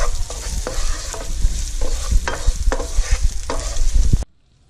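Ikan bilis anchovies frying with garlic until crispy in a Malaysian village kitchen: loud, close sizzling with rhythmic scraping strokes of stirring that stops abruptly near the end.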